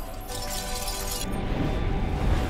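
Glass shatters loudly and alone, a bright burst of breaking shards at the start that gives way to a rumbling crash and clatter lasting a couple of seconds.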